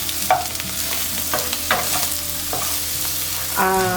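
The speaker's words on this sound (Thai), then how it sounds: "ผัดจนเต้าหู้แล้วก็ลูกชิ้นของเราเนี่ย เป็นสีเหลืองสวยเลยนะคะ" Tofu and meatballs stir-frying in a pan, a steady sizzle with a few sharp scraping clinks of a spatula against the pan.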